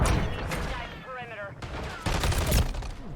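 Dense gunfire bursts from a first-person shooter game, a rapid series of cracks and blasts mixed with players talking over the action.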